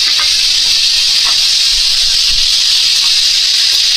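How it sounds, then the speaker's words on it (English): Pork loin chops sizzle in a pan after flipping, a steady bright hiss of hot fat, loud and close, holding evenly with faint pops and no talking. "I'm going to flip these bad boys."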